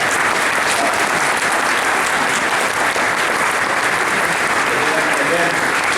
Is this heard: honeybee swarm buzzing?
no